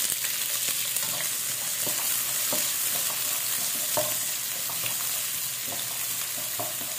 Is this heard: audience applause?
no